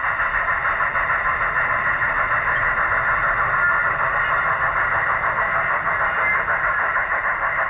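A train rolls past on nearby tracks, a loud continuous roar with a sustained metallic squeal and hiss holding steady throughout, close and unbroken.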